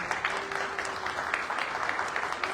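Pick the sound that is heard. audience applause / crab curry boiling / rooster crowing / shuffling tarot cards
audience applause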